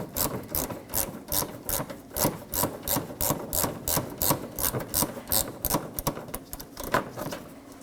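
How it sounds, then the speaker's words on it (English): A tool working a 10mm bolt out of a Nissan Maxima fender liner, fast repeated ratcheting clicks in an even rhythm, close and fairly quiet. "Now let's remove that bolt."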